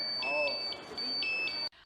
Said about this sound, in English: That loud noise is the sound a firefighter will hear if his breathing apparatus is running low on oxygen.